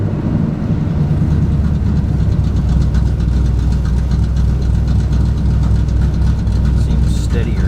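A car engine fitted with an oversized camshaft idling very low and rough, a loud, close, lumpy rumble that sags as though about to stall.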